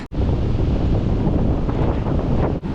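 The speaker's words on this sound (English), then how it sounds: "Obviously I've just crouched to get out of the wind" Strong wind on the Great Ocean Road coast buffets the microphone in a loud, continuous roar, with no pauses except a brief dip at the very start.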